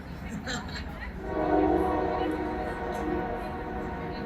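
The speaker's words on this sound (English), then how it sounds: "Trains interrupt every time we start talking." A train passes outdoors in a city setting, a steady loud rumble with some higher tonal rail sounds that swells and holds throughout, with faint voices underneath.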